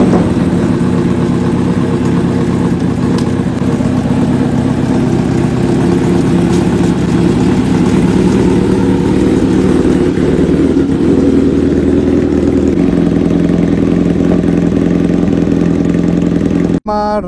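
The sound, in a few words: Kawasaki Z900 motorcycle engine running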